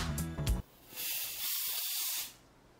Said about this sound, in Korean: 콜라를 부어보도록 하겠습니다.